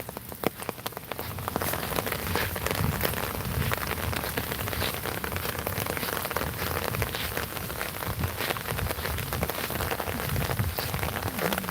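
Steady rain falls continuously in rural Kurigram, Phulbari, Bangladesh, a dense, even patter on surfaces that holds at a constant level with no talk.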